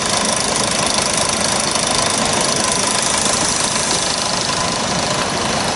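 A model traction engine runs at the Malvern Autumn Show, a loud, steady mechanical chugging and knocking that continues without a break, close by and with no voices over it.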